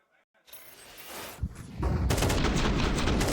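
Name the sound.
wallbang gunfire in the video game Counter-Strike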